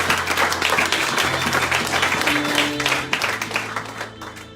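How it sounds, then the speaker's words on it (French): A church congregation breaks into loud, sustained applause to acclaim the Lord, dense clapping with crowd noise and a held musical tone underneath, easing off slightly toward the end. "Est-ce qu'on peut acclamer le Seigneur?"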